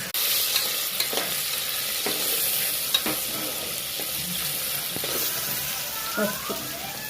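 Goat trotter curry (paya pulusu) stirred and fried in a pan, a close, continuous sizzle with scraping stirs and spoon knocks scattered through.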